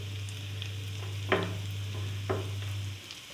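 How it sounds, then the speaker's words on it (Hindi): Chicken masala frying in a pan with green chillies, a steady close sizzle with two sharp stirring scrapes of a spoon against the pan, no talking. "और हल्का सा इसको भून लूँगी मैं डालूँगी हरी मिर्चें।"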